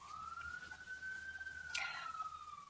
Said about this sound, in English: You might hear some sirens right now.